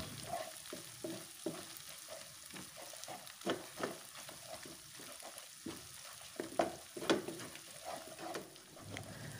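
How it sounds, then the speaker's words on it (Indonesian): Meatballs stirred and frying in a pan with cooked spice paste, a steady sizzle broken by repeated scraping stir strokes throughout, close and moderately loud, with no voices. "selanjutnya masukkan bakso, kemudian masak kembali sampai bumbu benar-benar tanak"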